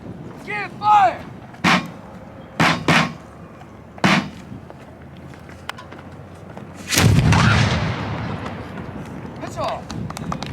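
A historic cannon fires at Old Fort Jackson in Savannah, Georgia, one loud, booming blast with a long rolling decay, preceded by shouted commands and several sharp clicks and knocks.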